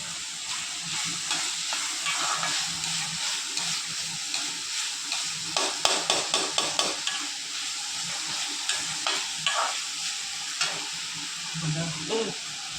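Dal sautéing in a pan for uppu urundai sizzles steadily while a spoon stirs it, with a run of sharp clinks and scrapes from the middle onward as water is poured in and the mixture is stirred.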